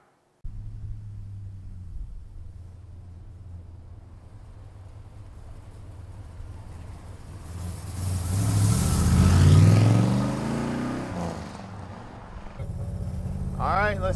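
A 1969 Plymouth Road Runner with a 4-speed rumbles at low speed, then the engine swells loudly as it accelerates and passes close, settling back to a steady drone.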